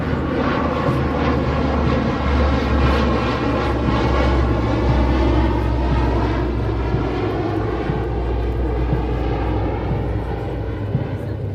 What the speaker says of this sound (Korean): A lot of planes flying over our heads.